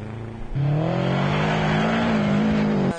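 Rally car on a winter rally track at Vecpils, with the mayor of Liepāja at the wheel, roars close and loud as the engine revs up after a brief pause and holds a rising, sustained pitch.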